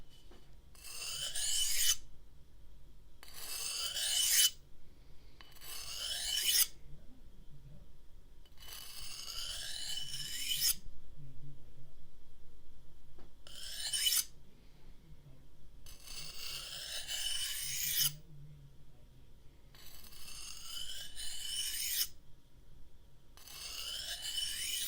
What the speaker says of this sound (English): So, let me grab the whetstone.